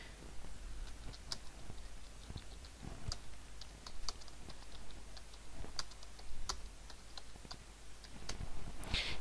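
Typing on a computer keyboard while writing in MS Word: a steady run of close, crisp key clicks with irregular rhythm and occasional louder strokes, continuing throughout with no talking.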